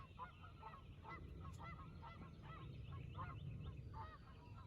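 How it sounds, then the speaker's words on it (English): A noisy flock of geese honks repeatedly at a distance, their calls overlapping in an irregular chorus over steady background rumble. "I can't see these birds that are making all that noise"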